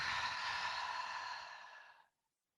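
A long, soft exhale during guided breathwork, a breathy airy rush that holds steady and then tapers away to silence after about two seconds, close and alone.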